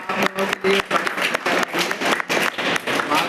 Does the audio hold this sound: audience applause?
yes